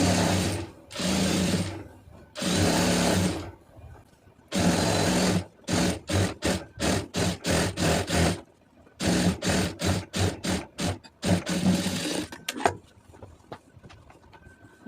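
A sewing machine stitches a cross piece onto a blouse, running in loud, close bursts, first long steady runs and then a string of short start-stop pulses, with no voices over it.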